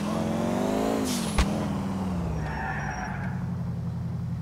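A car with burst tires skids in GTA IV, a long tire squeal over an engine drone that slowly dips, with a sharp knock partway through, loud and close with no talk.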